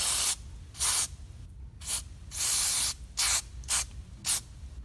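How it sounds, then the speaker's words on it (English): Several short bursts of hissing aerosol carburetor cleaner sprayed onto an ATV carburetor, close and loud, separated by brief pauses of quiet. "I'm just going to spray kind of the outside of this carb off real quick."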